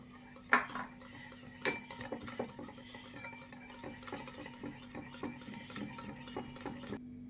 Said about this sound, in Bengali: ময়দা দিয়ে দইটা ফেটিয়ে নিলাম